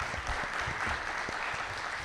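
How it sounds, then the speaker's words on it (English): A school audience at an evening college and career program claps at the close, a short burst of steady, moderately loud applause from a medium-sized crowd. "Let's give another round of applause"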